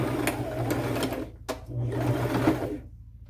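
A sewing machine runs a small straight stitch to attach lace to a blazer collar, making a fast, steady mechanical whirr close by. It pauses briefly in the middle, then runs again.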